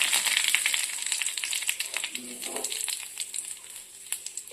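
Curry leaves go into hot oil with popped mustard seeds for a simple tomato curry after the flame is turned off, giving a fairly faint spatter of scattered sharp crackles and short sputters.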